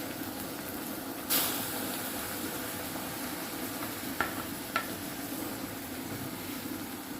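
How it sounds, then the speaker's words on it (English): Kenyan traditional greens such as kunde, mrenda and terere are stirred with cooked onion in a pot, giving a steady soft sizzling hiss throughout with a sharp scrape early on and a couple of light utensil clinks. "so I just need to stir to mix with the onion, the cooked onion"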